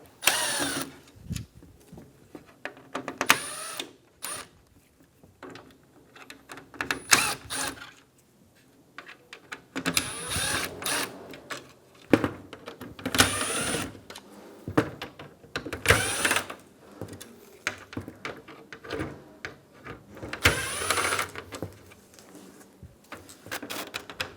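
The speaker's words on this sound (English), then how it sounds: "Remove the 12 T10 screws around the upper grille." T10 screws come out of the upper grille of a 2013-2017 Honda Accord, heard as bursts of whirring from a powered driver, separated by pauses, clicks and handling noise, close by.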